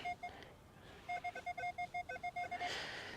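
A Minelab Manticore metal detector sounds a run of about a dozen short, evenly spaced electronic beeps over a buried target at old house ruins, steady and clear against a quiet outdoor background.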